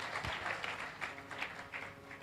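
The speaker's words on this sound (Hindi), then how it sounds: "प्रभुपाद जी के लिए ताली बजाइए।" An audience applauds for Prabhupada with steady, fairly soft clapping that carries on evenly without letting up.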